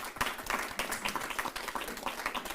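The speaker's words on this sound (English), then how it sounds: "a round of applause for Founders Institute" An audience at a Bermuda business accelerator event applauds, a short burst of steady, fairly soft clapping from a roomful of people with no voices over it.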